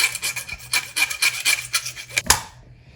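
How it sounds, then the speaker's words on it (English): Overly long faceplate screws for a USB wall outlet being ground down by hand, a rapid rhythmic rasping scrape, close and steady, ending in a sharp clack before fading out. "The screws that I'm putting in here for the faceplate ended up being too long and pushing everything out. So I'm gonna have to grind them down a bit."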